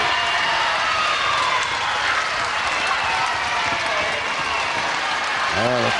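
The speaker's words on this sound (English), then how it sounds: "The crowd are quite happy about it." A wrestling crowd at a televised bout cheers and applauds with a continuous roar of clapping and voices that holds steady throughout, and a voice comes in briefly near the end.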